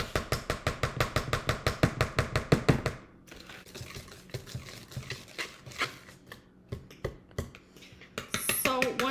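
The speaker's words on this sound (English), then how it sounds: "Then you're gonna start mixing that." Batter being stirred by hand in a bowl, with a quick run of rhythmic utensil strokes against the bowl up front, then slower, scattered scraping and clinking, ending in a brief bright clatter.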